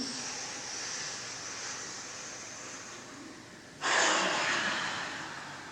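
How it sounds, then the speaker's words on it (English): A person takes a big, deep breath in during a breathing exercise at an outdoor wellness festival, a quiet airy inhale that swells suddenly into a louder, close rushing intake near the end. "Big breath in."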